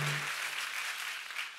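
Church congregation clapping during a sermon, a steady wash of applause from many hands that stays fairly even and fades slightly toward the end.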